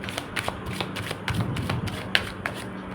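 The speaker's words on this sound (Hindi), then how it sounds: "पहले मैं सारे कार्ड्स निकालूंगी" Tarot cards handled and drawn from a deck, producing quick close papery flicks and slides in a rapid run, with a louder snap near the end and no voices.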